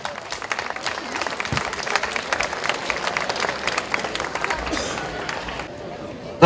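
An audience at an outdoor folk festival applauds a folk dance group with steady sustained clapping and faint crowd murmur, thinning toward the end.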